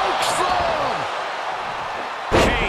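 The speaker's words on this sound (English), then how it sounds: "Chokeslam." A chokeslam body slam in the WWE 2K24 wrestling game, a Kane versus Undertaker no holds barred match, lands as one sharp loud slam near the end of the clip, with commentary talk heard earlier.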